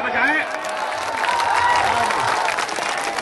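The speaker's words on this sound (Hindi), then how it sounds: "जोरदार तालियां बजाएं" Loud, sustained applause from an audience at a shayari poetry recital, a dense wash of clapping lasting throughout with a brief voice at the start and cheering mixed in.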